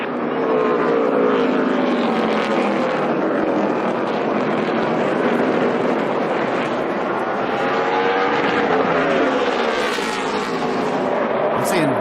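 NASCAR stock cars racing at Martinsville in the closing laps, a loud, steady roar of engines sweeping past with shifting pitch, wind buffeting the microphone, and a commentator talking over it.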